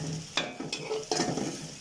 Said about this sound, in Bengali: এখানে আমি পেঁয়াজটা লাল করে নিলাম